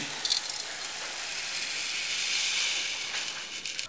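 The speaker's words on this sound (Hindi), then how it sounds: "और अब हम इसमें डालेंगे 1 किलो चीनी" A kilogram of sugar pours into a deep, heavy-bottomed cooking pot, a continuous grainy hiss that swells slightly mid-pour, close and steady with no talk.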